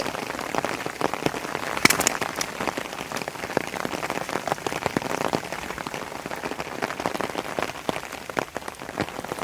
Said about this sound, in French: C'est le déluge par moment.